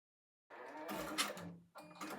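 Embroidery machine running a tack down stitch to hold faux leather to stabilizer, a close, fast mechanical whirr starting after a half second of silence and briefly pausing before resuming.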